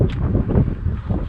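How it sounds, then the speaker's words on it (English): Steady low rumbling wind buffeting the microphone by a roadside in Wyoming, loud and close, with no voices. "Sorry for the wind."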